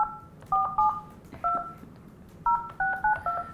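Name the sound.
telephone keypad dialing tones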